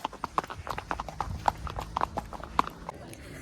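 Hooves of small horses clip-clop at sunset in Shimla, a steady uneven patter of close, crisp strikes, with faint voices underneath.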